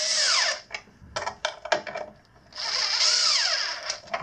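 Screws being tightened on the battery mount of a Razor E200 electric scooter with a power tool: whirring bursts near 0–0.6 s and again 2.5–4 s, with short clicks and taps between them, close and fairly loud.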